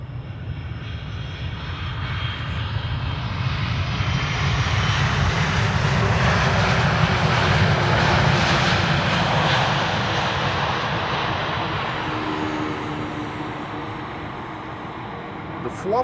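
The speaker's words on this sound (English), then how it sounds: "The FWOF has landed, and it landed in typical KLM fashion." A KLM airliner lands at Amsterdam Schiphol, a loud broadband jet roar that swells to a peak mid-way and then slowly fades as the aircraft rolls out, with no talk over it.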